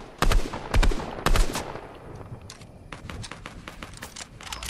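Gunfire in a video game: several loud sharp shots in quick succession near the start, followed by softer scattered distant shots and faint footsteps, with no talking.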